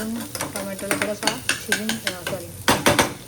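Tomato being stirred into frying onion and garlic in a pan, brisk rhythmic scraping strokes over a bright sizzle, close and clear with no speech.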